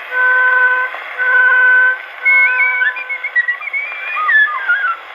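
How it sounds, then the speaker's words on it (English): A toy whistle on an early recording from 1920 or earlier blows in two long steady tones, then shifts into warbling, wavering pitches that rise and fall rapidly, loud and close. "Yes, that little whistle"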